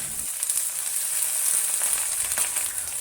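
Drained baby bok choy hitting a hot wok over high heat, a bright hissing sizzle that swells and crackles continuously up close, with faint stirring scrapes underneath and no talking.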